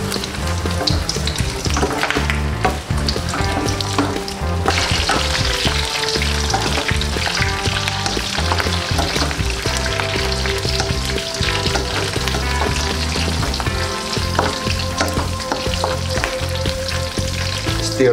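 Pork belly frying in oil for chicharon, a dense, loud, continuous crackling sizzle with popping spatters and occasional stirring clatter, close up and without any voices.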